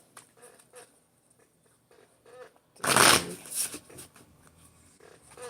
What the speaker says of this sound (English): I'm shuffling 7 times.